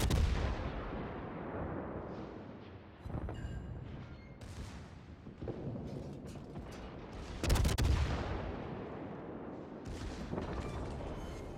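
Cruisers fire their guns in the naval battle game World of Warships, a series of booming salvos with long rumbling decays, several heavy blasts spaced a few seconds apart, the loudest near the end, with no talk over them.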